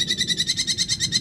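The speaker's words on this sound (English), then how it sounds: "It's a burrowing owl." A burrowing owl in Marathon, Florida gives a rapid run of high, evenly pulsed chattering calls, close and clear, repeating about eight times in just over a second.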